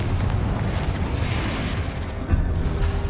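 The Confringo explosion spell in Hogwarts Legacy erupts as a loud, rumbling boom that roars continuously for a few seconds, with a sharper burst near the end.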